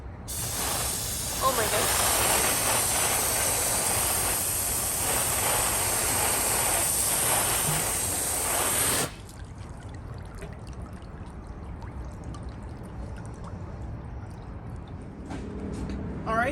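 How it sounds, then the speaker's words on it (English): Garden hose spraying water to rinse cleaner off a dinghy, a loud close hiss for about nine seconds that then cuts to quieter trickling and dripping, with a voice briefly exclaiming. "And now we're going to rinse off with a hose."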